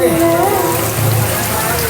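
Heavy rain falls during a night-time outdoor street busking performance, a steady, loud hiss of water over the whole stretch, with a brief sustained vocal or instrumental tone near the start.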